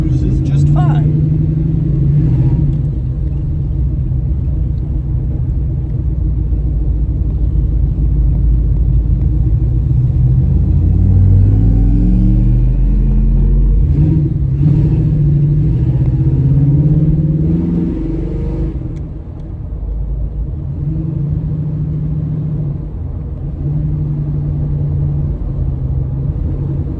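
A 1955 Chevy truck cruising down the road, its engine a loud, steady low rumble with a few rising and falling pitch sweeps as it accelerates and shifts, heard close from inside the cab.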